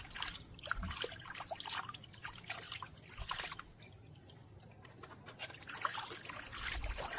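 Water trickles and splashes steadily at close range, a soft continuous flow with small bursts, and no voices.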